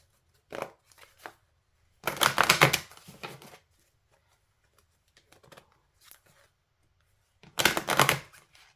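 Oracle cards being shuffled and drawn by hand: short papery riffling bursts, two longer ones and a few small flicks and taps, close and clear with quiet gaps between.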